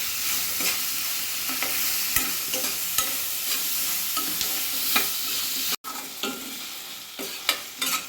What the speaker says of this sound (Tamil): நல்லா நம்ம போட்ட தக்காளியெல்லாம் நல்லா குழஞ்சி நல்லா பூண்டு வெங்காயம் எல்லாம் நல்லா வதங்கிருச்சு.